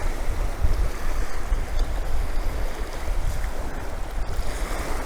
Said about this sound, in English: Could be the ocean itself, drowning out all the noises.